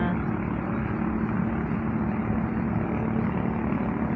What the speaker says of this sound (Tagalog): ingay dito sa may Sapa banda kasi maraming dumadaan na speedboat